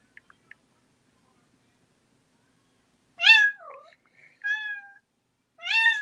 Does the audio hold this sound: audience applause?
no